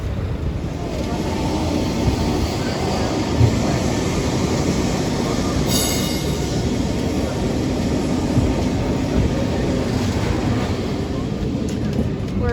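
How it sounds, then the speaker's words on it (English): A Lisbon tram 28 rumbles and rattles steadily from onboard, a continuous clattering drone with a brief high squeal, and faint voices underneath. "On the tram 28, and here is the view."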